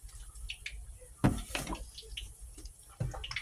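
Fingers are rinsed under a running kitchen tap while making apple fritters, producing a soft, steady water splash with a few sharper thuds and drips along the way.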